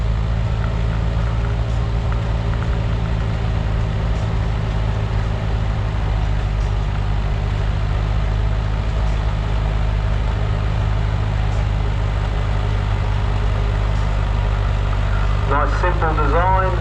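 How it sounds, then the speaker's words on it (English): A vintage tractor's small 4-cylinder engine, mounted in a cast iron chassis and driving through a gearbox, drones loudly and steadily under load at a tractor pull practice day in Korumburra, with a voice briefly audible near the end. "just a little 4-cylinder engine mounted in a cast iron chassis at the front, driving through the gearbox"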